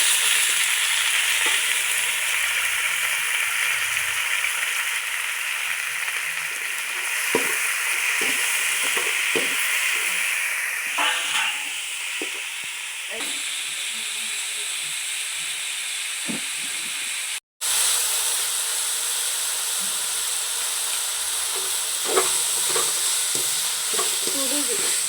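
Onions browned in a large amount of oil, then tomatoes, sautéing and stirred for Tamil-style fish curry: a steady loud sizzle with scraping stir strokes, one brief dropout near the end, no talk.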